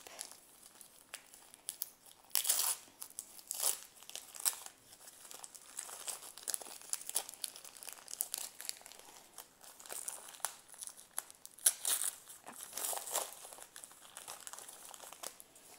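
A well-wrapped swap parcel of craft goods is unwrapped by hand, giving close, irregular bursts of paper and plastic crinkling with short tearing rips between quieter rustles.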